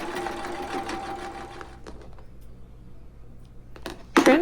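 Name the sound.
sewing machine stitching seam of fleece hat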